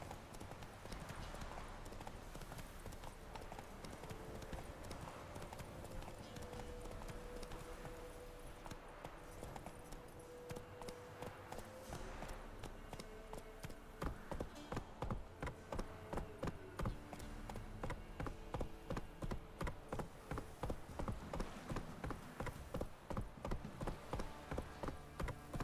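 A horse's hoofbeats in The Witcher 3 video game start as softer uneven clopping, then become a steady, rhythmic gallop that grows louder and more distinct in the second half.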